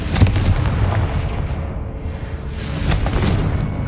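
A Confringo fire blast spell from Hogwarts Legacy sends out a dense, rumbling explosive roar, with booming bursts under a steady crackling wash that carries through the whole stretch.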